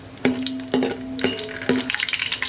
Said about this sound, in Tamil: அது கிண்டி விட்டுக்கலாம்